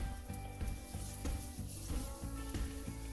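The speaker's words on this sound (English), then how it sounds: "to that hot pan, we're going to add our 2 cloves of fresh garlic" Two cloves of diced fresh garlic sizzle in hot bacon grease in a pan, a continuous bright frying crackle with a steady pulsing rhythm underneath, fairly close and with no talking.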